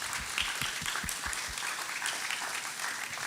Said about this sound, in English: So if you could join me in a round of applause for thanking our sponsors.